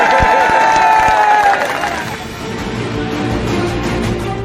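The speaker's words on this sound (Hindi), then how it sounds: "जोरदार तालियां।" Loud applause and crowd noise at a political gathering honoring a leader, a dense burst of clapping that peaks early and then settles into a sustained murmur of cheering.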